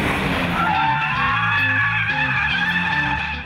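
Car tires skid and squeal continuously through a drift, loud and close, with the engine droning underneath for the whole stretch.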